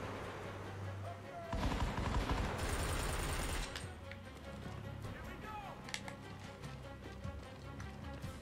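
Gunfire in the video game Army of Two: The 40th Day, a dense burst of rapid shots in the middle, with softer scattered shots and game noise before and after.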